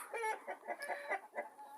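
New Hampshire chickens cluck softly in a quick series of short calls, slightly distant and quiet.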